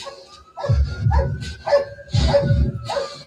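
A police K-9 dog in York, Maine barks close and loud in a series of five or six sharp barks with short whines between them.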